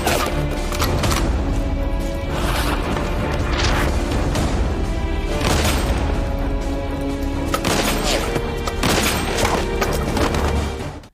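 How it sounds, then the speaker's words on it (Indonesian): Rapid bursts of close-range gunfire from a shooting video game crackle continuously, with sharp repeated shots and booms layered over a dense, loud game soundscape. "Mereka beradu skill menembak jarak dekat."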